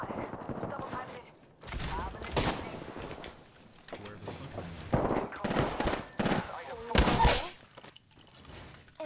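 Bursts of gunfire in Apex Legends crack out in a busy firefight, loud volleys spaced across the moment, with players talking over the shots.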